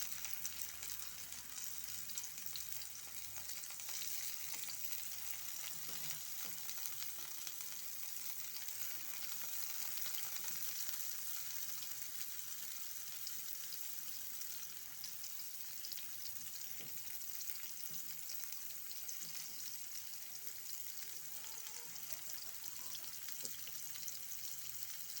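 Pieces of green banana frying in hot oil, a steady bright sizzle with soft crackles and occasional pops, close and continuous with no talk.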